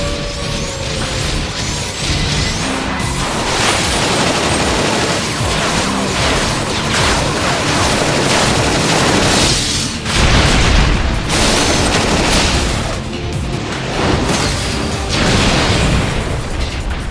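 Opening of Shadow's story in Sonic 2006, with a loud, continuous barrage of booming explosions and crashing debris rolling on without pause, no talk over it.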